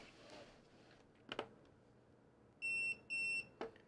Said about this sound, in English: We got the two beeps right there.